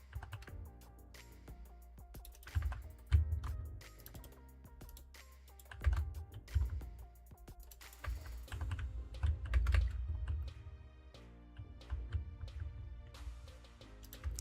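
Fingers type on a computer keyboard in uneven bursts of close, clicky keystrokes with short pauses between flurries, fairly quiet and with no voice over it.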